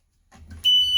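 On a school bus, the roof hatch alarm kicks in after a soft rustle, a steady high-pitched electronic beep that sounds loud and close, held continuously without any talking.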